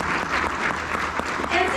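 A short burst of audience applause for Mayor Harvey at a chamber of commerce meet-the-elected-officials event, a brief, moderately loud wash of clapping from the room.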